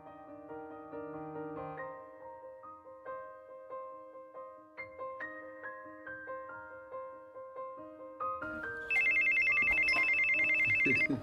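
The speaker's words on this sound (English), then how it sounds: "Is that a phone call?" A telephone rings in a Nollywood drama scene, a loud continuous ring entering near the end over soft background music, with no talking during it.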